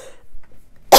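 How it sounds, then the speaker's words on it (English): A single sharp cough close to the microphone near the end, after near silence with a faint voice trailing off at the start. "I don't want to cough too loud into it"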